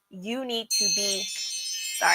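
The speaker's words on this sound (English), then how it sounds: "that's my alarm." An alarm goes off, a bright high-pitched tone sustained for over a second, cutting in right after someone speaks and overlapping her voice at the end.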